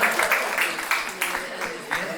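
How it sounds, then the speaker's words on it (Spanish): Brief applause for a contest winner at a live event, scattered clapping in small bursts, fairly quiet, with people talking over it. "Bien, aplauso. Un aplauso. Tenemos un ganador."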